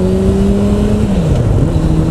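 A Suzuki Bandit 650 S motorcycle with an Akrapovic exhaust revs steadily nearby, a sustained engine drone whose pitch holds and then sinks midway, loud and continuous with no talk.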